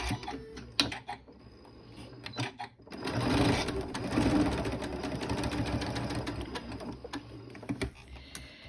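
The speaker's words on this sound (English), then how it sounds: "I'm going to stitch from there just about 3/4 of an inch in." Sewing machine stitching a seam on a lace zipper pouch, a close, steady rapid mechanical whir running for several seconds after a few short clicks and pauses, with no talking.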